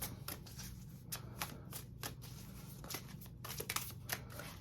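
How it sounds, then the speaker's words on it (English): Fairy Tarot card deck being shuffled by hand, a run of soft, crisp riffling flutters repeating at an irregular pace, close and quiet with no talking. "now let me shuffle. This is the Fairy Tarot card deck"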